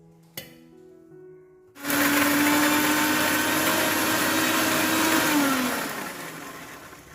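After a small click, a mixer grinder jar of peeled garlic cloves, coriander leaves, dried chilli and curd starts with a loud, steady, high whirring hum. It runs for several seconds, then winds down and fades.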